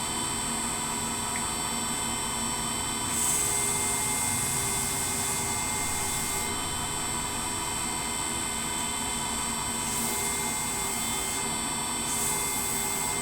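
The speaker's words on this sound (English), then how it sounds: "So I'm running the machine at about 1300 RPM, so it's going quite fast." A polishing lap machine spinning at about 1300 RPM gives off a steady, even whine and hum that holds constant throughout, with no voices.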